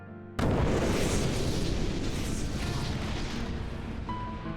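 A huge explosion on a mountain erupts abruptly after a moment of near quiet, then roars on as a loud, sustained rumbling blast with no letup.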